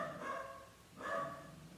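A small house dog barks two muffled, somewhat distant bursts in an indoor room, each a short cluster of yaps about a second apart.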